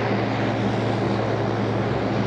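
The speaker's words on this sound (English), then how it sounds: "a 13-year-old boy loaded onto a Royal Flying Doctor plane" A Royal Flying Doctor propeller plane in South Australia, its engine a steady, loud, droning hum with a low throb that holds evenly without pause.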